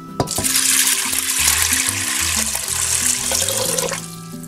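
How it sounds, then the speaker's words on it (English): Water pours and splashes into a pot, the pitch rising as it fills, loud and close, stopping near the end. "And you're gonna add the water as well."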